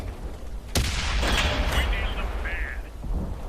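Tank cannon fire hits an E50 in World of Tanks, heard as a sharp heavy blast followed by rumbling, clanking impact and mechanical noise, with someone talking over it.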